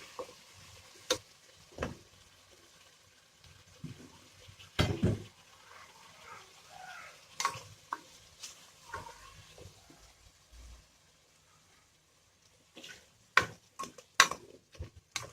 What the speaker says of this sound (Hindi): इसको अच्छी तरह से मसाले के साथ हम मिक्स कर देंगे और हम इसको अच्छी तरह भून लेंगे।